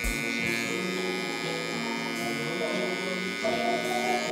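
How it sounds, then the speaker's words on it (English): Electric hair clippers buzzing steadily and close while trimming a high taper haircut, with a voice talking over the drone. "we're gonna get rid of it with our clipper"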